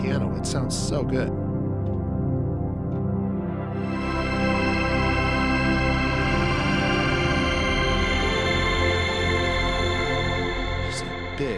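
A deep, swelling worship pad on a Nord Stage 4 layered with a plain piano, a few opening piano notes blooming into a wide, sustained, chorus-washed chord bed that fills the space and holds steadily throughout.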